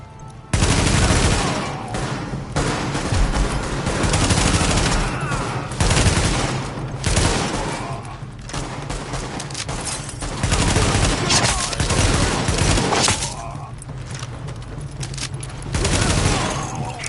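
Heavy, sustained gunfire fills a video game battle, loud and dense with overlapping rapid shots and bursts throughout, and game dialogue occasionally speaks beneath the barrage.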